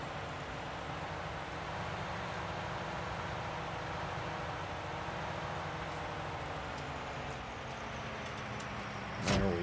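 Steady low rumble and broadband whoosh of a John Deere 6R farm tractor driving inside a shed to hook up to a forage chopper, heard from the cab with constant engine drone and a clunk near the end.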